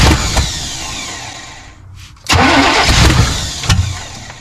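A 1987 Chevy small-block 350 with throttle-body injection cranks and catches on its first start in 20 years, a short cranking burst followed by a pause, then a loud, rough engine roar that keeps running up close.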